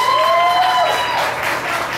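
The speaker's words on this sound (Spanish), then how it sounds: "Aplausos para la amiga." Applause from a crowd at an amateur singing awards event, steady clapping filling the whole stretch while a voice rises briefly near the start.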